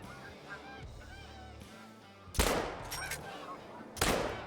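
Snow geese honk in the distance during a morning goose hunt, a scatter of faint calls. Two loud gunshots break in near the end, and brief voices are heard.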